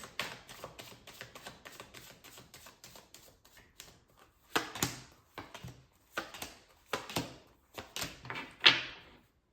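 Tarot cards are shuffled and pulled from a deck, heard close as a run of quick soft riffling flicks followed by louder separate card snaps and slides, with no voices.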